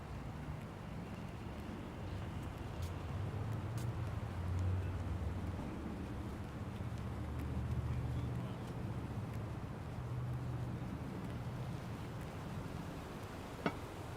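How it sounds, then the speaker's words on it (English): Steady low rumble of passing car traffic on a brick-lined Brooklyn residential street in Bensonhurst, a continuous moderate drone with no distinct individual vehicles standing out. "You hear the car noise"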